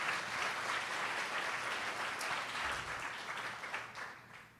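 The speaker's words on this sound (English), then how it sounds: "Another round of applause." A crowd at a community center grand opening applauds, a dense sustained roar of many clapping hands that holds steady and then tapers off toward the end.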